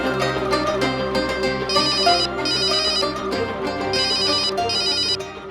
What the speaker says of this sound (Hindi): ठाकुर साहब, फोन कैसे किया?